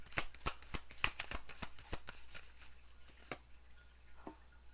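Playing cards are riffled and snapped in quick, crisp bursts, close and quiet, before the flicking slows to a few softer taps as a card is drawn.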